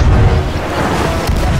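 A gunpowder barrel explodes in the Sea of Thieves video game, a loud, deep, rumbling boom that fills the moment and rolls on without a break.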